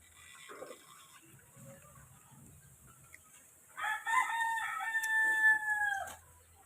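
Chickens in a backyard coop: low scattered clucking early on, then a rooster's long crow rings out fairly close and loud in the second half, with no talk over it.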